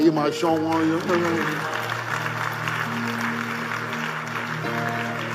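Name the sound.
church congregation applauding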